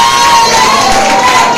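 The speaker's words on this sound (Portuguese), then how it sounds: "Palmas para Jesus." Loud, dense applause and cheering from a church congregation clapping for Jesus, a continuous roar of hands and voices close by with no single speaker.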